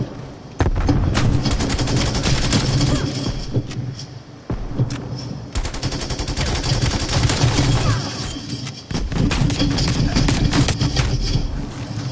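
Dense, sustained video-game gunfire from a bomb-objective match rattles in loud rapid bursts almost without pause, with brief gaps and a talking voice mixed underneath.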